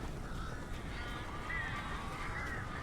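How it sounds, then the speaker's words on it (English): Several birds caw at a distance in the video game Alan Wake Remastered, a few faint harsh calls over a low steady background. "That's a lot of birds."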